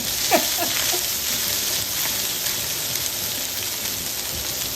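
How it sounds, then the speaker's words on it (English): Rice with onions, garlic and ginger paste frying in a pan gives a steady, dense sizzle throughout, with a brief clink near the start and no talk. "When your onions start getting translucent, add in your rice. And add in your garlic and your ginger paste."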